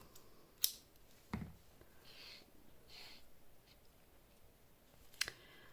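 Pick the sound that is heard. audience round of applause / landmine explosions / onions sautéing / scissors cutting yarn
scissors cutting yarn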